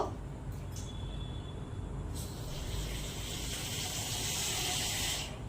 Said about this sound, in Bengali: একটু তেল দিয়ে দিচ্ছি, একটু ঘি দেব